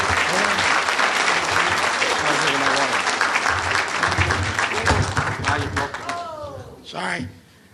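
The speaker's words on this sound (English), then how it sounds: "Let's give a round of applause." A City Club of Chicago luncheon crowd gives a full round of applause, thick and sustained for several seconds, tapering off near the end as a voice starts speaking.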